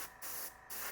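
Fine spray paint hissing in three short, even bursts as light coats go over nomenclature stencils on a Top Flite P-51D model plane, close and soft, with no talk.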